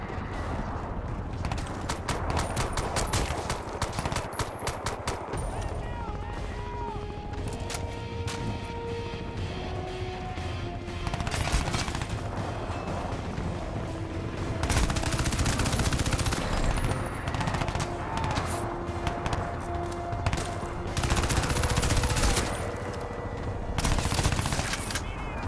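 Repeated bursts of automatic weapon fire in Crysis 2, with clattering shots coming in clusters among game effects and impacts throughout the stretch. The firing sounds fairly distant and moderate in loudness.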